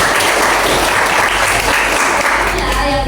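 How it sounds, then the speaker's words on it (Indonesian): A classroom of students breaks into steady, dense applause that holds loudly for about three seconds, with a faint voice near the end. "Oke, boleh tepuk tangan dulu."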